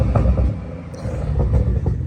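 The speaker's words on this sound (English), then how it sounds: "we'll give it a tiny, tiny rev now just so you guys can hear it." A BMW B58 engine gives a short, low rumbling rev, the engine note steady and fairly loud with a slight swell and no talking.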